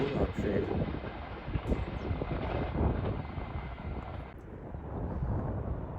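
A Class 153 diesel train pulls away toward Liverpool Lime Street with a steady engine drone and rumble that fades slightly, and speech is heard over it.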